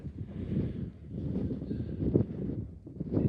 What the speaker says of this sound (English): quite windy